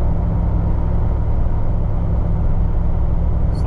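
Steady low engine drone inside a car with an 8HP70 automatic transmission as it downshifts, a continuous loud rumble with no distinct shift event standing out.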